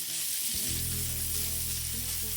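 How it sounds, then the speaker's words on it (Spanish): Red onion sautéing in a frying pan after salmon, a loud steady hiss of sizzling oil with a low hum setting in after a moment, no speech. "aprovechamos el saborcito que quedó para saltear la cebolla morada"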